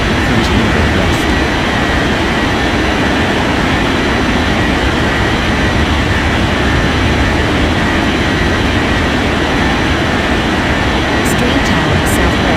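Airliner roaring down runway 30 left at takeoff in an air traffic control game, a loud steady broadband jet rumble holding constant throughout, alone with no voices.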